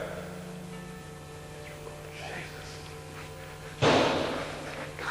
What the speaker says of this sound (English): the door actually slammed right in front of us